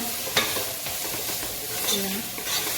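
Onion, ginger, garlic and curry leaves sauté in a pan with a steady close sizzle of frying. Occasional stirring scrapes and a brief clink sit on top of the sizzle.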